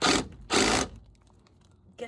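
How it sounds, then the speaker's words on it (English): Power drill running in bursts inside an attic during DIY floor installation and blown-in insulation work, two loud whirring runs of about a quarter second each, then a pause before a third starts. "Getting dusted by drill."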